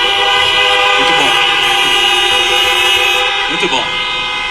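A stadium crowd at Allianz Parque sounds horns together in a loud, sustained, droning blare that fills the whole stretch, with a couple of brief swells.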